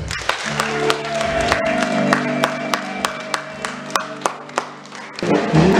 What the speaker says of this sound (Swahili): Ongeza sana makofi.